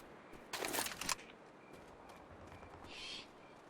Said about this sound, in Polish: Kruki straszne